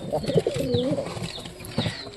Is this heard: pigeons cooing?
yes